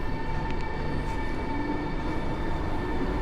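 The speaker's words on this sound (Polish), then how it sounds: "A za moimi plecami rusza Pendolino" A Pendolino high-speed train pulls away from Kraków Główny station with a steady rail rumble and a constant tonal hum. The sound stays even and moderately close, and no one speaks.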